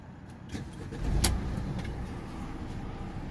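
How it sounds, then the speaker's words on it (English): A Mercedes Sprinter 2.1 van's engine cranks and catches with a brief burst, then settles into a steady low idle rumble nearby, with no talk. "we'll start the vehicle up again"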